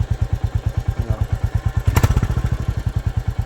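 A Royal Enfield Classic 350 Medallion Bronze single-cylinder engine idles close by, with an even, rapid thumping beat and a brief brighter rev near the middle.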